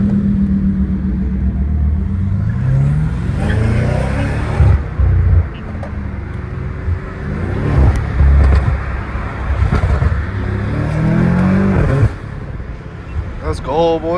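A straight-piped McLaren 720S is driven hard from the cabin, its loud engine rising and falling through repeated revs and gear changes with rasping bursts. Voices come and go under the exhaust.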